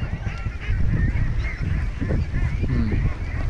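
A dense flock of free-range ducks in an open field keeps up continuous, loud, overlapping honking and quacking calls with no pauses.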